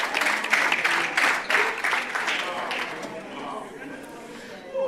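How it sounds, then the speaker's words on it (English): An audience at the 2024 Albertina Sisulu Inaugural Memorial Lecture claps and cheers, with the applause fading after a few seconds while a voice talks underneath. "you may clap once more."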